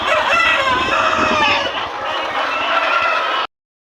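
A flock of chickens clucks loudly and constantly at egg-laying nests on a farm, a dense, close chorus of overlapping clucks and cackles that cuts off abruptly.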